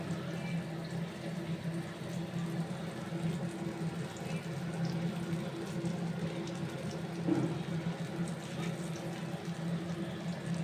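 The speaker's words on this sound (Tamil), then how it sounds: "இந்த குழம்பு தூக்கி ஆட் பண்ணிக்கோங்க" Kuzhambu gravy is poured into a pan of frying fish and sizzles and bubbles steadily throughout at a close, even level, with a low kitchen hum underneath.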